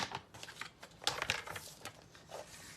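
Paper trimmer blade slices through two stacked sheets of thin designer series paper at once, a quiet run of short crisp scraping and clicking strokes close up, with no talk.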